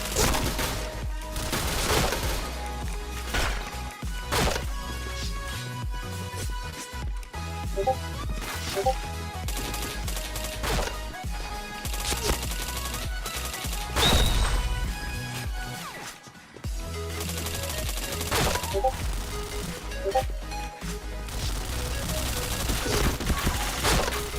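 Rapid gunfire from the online shooter Point Blank, dense bursts of shots and automatic fire running almost continuously with a brief lull midway, loud and close, with occasional voice underneath.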